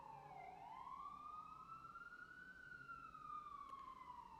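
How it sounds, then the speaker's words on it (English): Police car siren passing outside, one long rising and falling wail that swells and fades, moderately distant and alone with no talk. "My apologies for the siren, guys."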